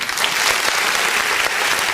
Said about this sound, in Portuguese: Quantos podem dar uma salva de palmas para Jesus?